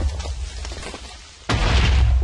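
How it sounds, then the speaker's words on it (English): A muffled rumble, then a sudden loud booming burst at about the midpoint that keeps roaring, like Minecraft explosions going off close by. "I'm hearing some explosions."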